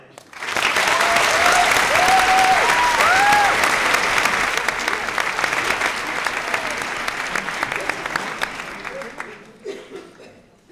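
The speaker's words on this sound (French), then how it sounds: "je vous prie d'accueillir avec un tonnerre d'applaudissements le premier avocat de l'accusation" Thunderous applause from a courtroom-style audience welcoming the first prosecution lawyer at a staged mock trial, loud dense clapping with whoops and cheers early on that slowly thins and fades out near the end.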